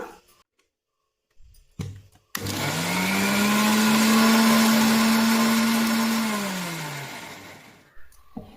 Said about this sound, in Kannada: ಒಂದು ಅರ್ಧ ಗ್ಲಾಸ್ ಆಗುವಷ್ಟು ನೀರು ಹಾಕ್ಕೊಂಡು ನುಣ್ಣಗೆ ರುಬ್ಕೊಂಬರೋಣ